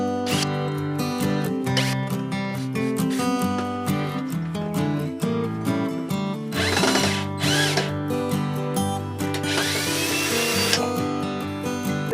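A cordless power drill runs loud and steady, backing screws out of a plate on a horse trailer's living-quarters roof by the air conditioner, with whines that rise and fall, brief pauses and several bursts of higher-pitched spinning.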